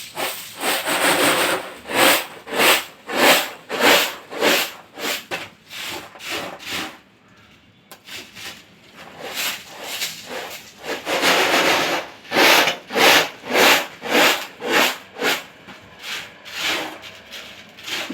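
Roasted tamarind seeds are rubbed by hand to strip off their skins, producing repeated rough scraping strokes in rhythmic bursts with a brief pause midway, close and fairly loud, without any talking.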